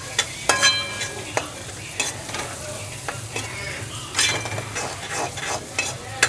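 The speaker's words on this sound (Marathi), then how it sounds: "याला कम गॅस करून 2 मिनटं हे छान मिक्स करून घेते." Bitter gourd curry with garam masala fries over low heat as a spoon stirs it, giving a steady close sizzle with regular scraping and tapping strokes against the pan.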